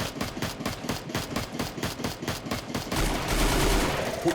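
In the Free Fire video game, automatic gunfire rattles in rapid, evenly spaced bursts, loud and close, then gives way to a denser wash of game noise near the end.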